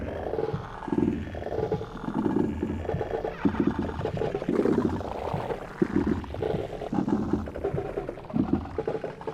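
A drum beat processed through Ableton's Crystallized delay effect turns into a stream of warped, growling, pulsing textures, steady and moderately loud, without any speech.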